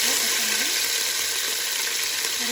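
Steady, dense sizzling of cardamom, cinnamon and cloves frying in hot oil for crab curry, a continuous crackling hiss close up with no talking.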